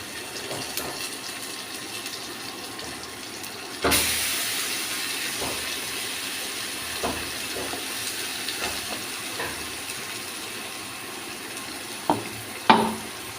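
Amudi fish fries in a pan with a steady, close sizzle. A sudden louder burst of hissing and spattering comes as spice paste is added, then settles into continuous frying with a few clinks near the end.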